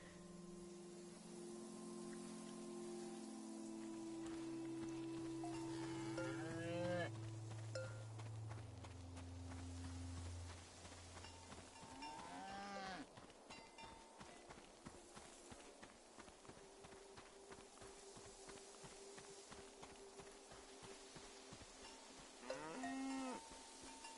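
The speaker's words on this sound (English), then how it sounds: "The name of this cow is TVC-15." Cattle lowing in the farming video game Season, several long moos rising and falling over a steady ambient bed, with occasional hoof-like clops and footsteps in the background.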